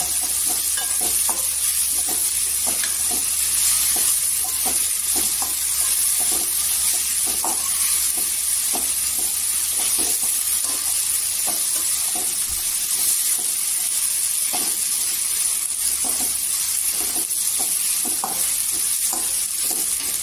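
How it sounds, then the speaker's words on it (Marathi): Dried fish (sukat), soaked beforehand, frying in oil in a pan: a steady, close sizzle runs throughout, broken by repeated scraping stirs, with no voices. "छान अशी तेलामध्ये भाजायची"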